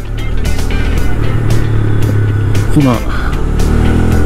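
A 2021 Honda Grom 125cc motorcycle cruises at about 35 km/h, its small engine humming loud and steady with wind buffeting, as a rider speaks briefly over it.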